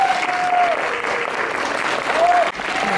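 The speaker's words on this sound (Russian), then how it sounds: "теперь ваши бурные аплодисменты всем участникам хендмейд-дефиле" Enthusiastic crowd applause at a hand-made fashion show during a Gothic & Lolita festival, dense steady clapping filling the whole stretch with a brief dip near the end.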